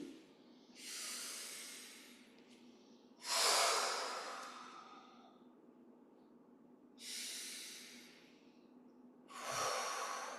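Four slow, relaxed breaths during a Yi Jin Jing qigong exercise, each a long airy hiss that rises and fades, spaced a few seconds apart over a quiet background with a faint low hum.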